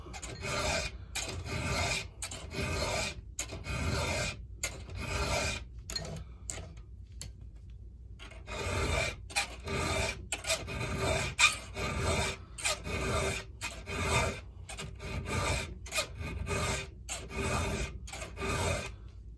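A hand file rasps across chainsaw teeth in steady strokes, each gritty pass close and distinct with brief pauses between, the rhythm holding through a short break mid-sequence.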